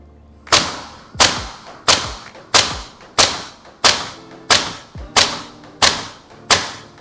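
A Maruyama ISO556 airsoft rifle fires ten shots of 0.25 gram BBs at a 30 meter target, each a sharp close crack with a short tail, evenly spaced at a steady semi-auto pace with no talk.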